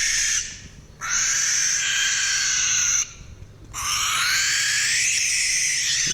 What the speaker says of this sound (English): an outburst that's more to blame for mental anguish than the banshee-coated barn owl